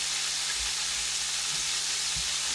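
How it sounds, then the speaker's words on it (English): Southern fried quail legs sizzle steadily in hot oil in a pan, a loud, bright crackling hiss that fills the whole moment with faint low bumps underneath. "the camera's picking up the way they sizzle and the sound"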